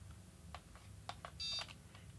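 A Rejuvenique facial mask's pulsation control gives a short electronic beep at moderate level over a faint background, with a few soft clicks and taps around it.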